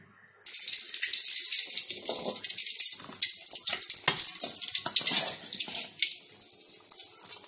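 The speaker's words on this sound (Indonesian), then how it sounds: "terakhir saya mau siram dengan minyak panas" Hot oil poured over fried battered shrimp with green chili sambal, a loud steady sizzle and splash starting abruptly after a brief quiet moment and continuing throughout with no talk.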